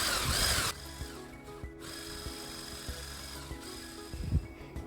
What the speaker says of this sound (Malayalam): പഞ്ചസാര കുറേശ്ശെ ചേർത്തിട്ട് ബീറ്റ് ചെയ്തെടുക്കുക